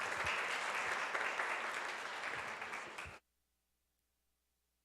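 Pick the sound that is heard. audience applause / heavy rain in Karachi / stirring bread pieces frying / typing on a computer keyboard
audience applause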